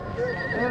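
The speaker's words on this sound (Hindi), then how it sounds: "ये माशाल्लाह जी गबन घोड़ी है" A mare whinnies at a horse fair in Dera Ghazi Khan. The brief, loud neigh has a wavering tone and sounds amid crowd noise and nearby voices.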